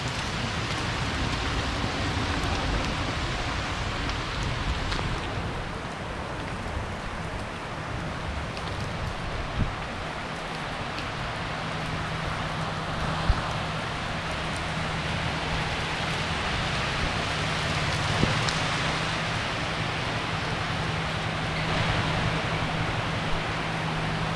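Steady rain falls outdoors on a mangrove boardwalk on Boracay, a dense, even hiss of drops with occasional louder patters, continuing without pause and with no voices.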